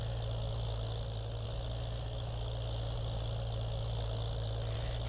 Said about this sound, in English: It's just this this tractor isn't that good at going up hills.